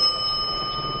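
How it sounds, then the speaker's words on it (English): A doorbell rings as a stage sound effect during a high school theatre production of Arsenic and Old Lace: one short, steady electronic ring with a bright bell-like tone, loud and alone. "That's the doorbell, dear, not the telephone."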